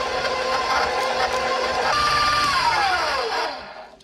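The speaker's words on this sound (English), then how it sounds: "So this is 1 cup of butter. Which I'll begin creaming." An electric mixer creams one cup of butter for a glazed lemon pound cake, a steady loud whirring hum with a falling whine near the end as the motor winds down and stops.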